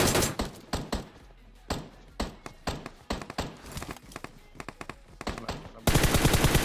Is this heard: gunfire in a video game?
yes